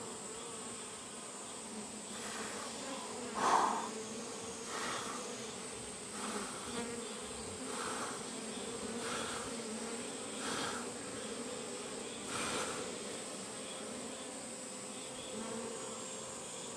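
Bees buzz steadily around a hive during a July colony inspection, a dense continuous drone with faint recurring puffs of smoke-blower air and one brief sharper knock partway through.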